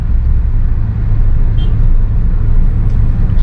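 Many cars pass on a busy road, making a steady, loud low rumble of traffic that runs without a break, with no voices.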